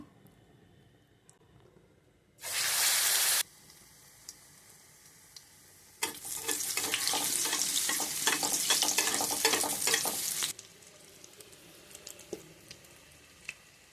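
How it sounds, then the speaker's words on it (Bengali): Egg-battered pieces dropped into hot oil, a loud burst of sizzling for a second, then a longer dense crackling fry of several seconds that cuts off, near and with no talk. "ভেজে নিচ্ছি, মশমচা হলে উঠিয়ে ফেলবো"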